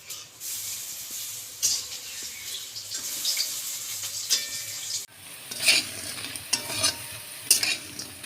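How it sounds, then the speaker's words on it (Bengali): Lentil fritters (dal bora) frying over low heat in a pan, giving a steady broadband sizzle with occasional brighter crackles and spatters, close and continuous without talk. "হতে থাক বড়া, কম আঁচে দিলাম। এখন এগুলো ভেজে নিচ্ছে"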